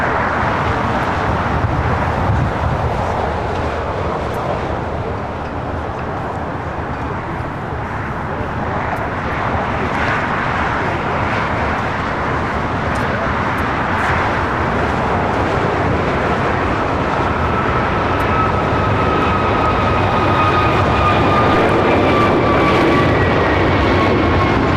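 A Singapore Airlines Boeing 777-300ER pushes back at LAX, its engines a steady broadband roar that stays loud throughout amid airport ambience, with a faint rising whine and radio chatter in the background.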